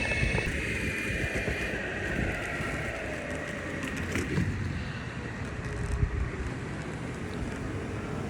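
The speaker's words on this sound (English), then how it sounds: "We in traffic right now." Steady road traffic rumbles and rushes around someone riding an Evolve GTI electric skateboard, mixed with constant wind buffeting on the microphone, with no talking.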